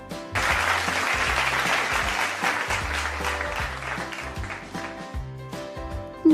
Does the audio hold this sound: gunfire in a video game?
no